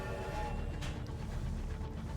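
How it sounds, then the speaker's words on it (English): Circus train moving in Sunless Skies, a steady low rumbling drone with a faint whistle-like tone briefly rising in the middle, continuous and fairly loud, no talking. "We have a circus train."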